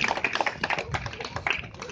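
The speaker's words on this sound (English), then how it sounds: "Clap for them." A small group in a Kyokushin karate dojo claps for two fighters. The hand claps are distinct and irregular, close by and fairly crisp, with no voices over them.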